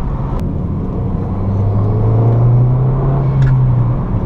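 A Ford Focus RS MK1 drives on a wet, soaked road, heard from inside as a steady loud rumble with a slowly rising engine drone and no talking.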